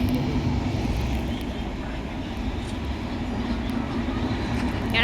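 In a video game, a train rolls past with a continuous low rumble and rattle, steady and fairly close, with no talking over it.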